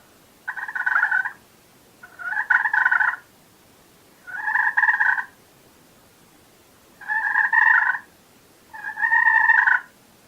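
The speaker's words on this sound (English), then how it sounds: "Purr's pretty simple. You're just going to put your striker on there and you just drag it real slow down with light pressure" Purr call on a turkey slate call, made by dragging the striker slowly across the slate with light pressure: five separate rolling, fluttery bursts of about a second each, close and clear, with short pauses between and no talk.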